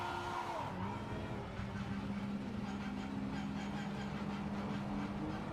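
Race cars circulate at Spa in the Project Motor Racing video game, a sustained engine drone with a steady pitched tone rising and holding as a car accelerates through gears, continuous and fairly close.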